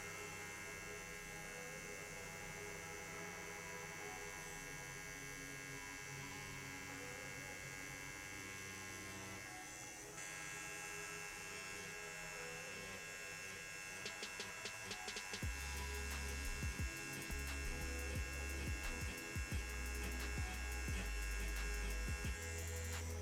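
A Bishop Packer Wand rotary tattoo machine runs with a steady, close electric buzz and hum. The tone is constant, and a lower, rougher pulsing layer comes in for the last third.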